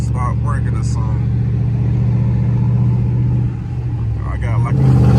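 A Dodge SRT8 with a 392 engine runs with a misfire, a steady loud low rumble close by, with voices talking over it.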